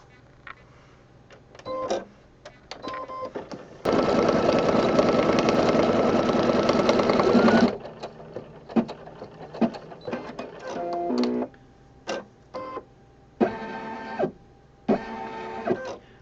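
An embroidery machine tacks down a Valentine hug rug, one loud sustained run of stitching in the middle with shorter mechanical clicks and whirs before and after.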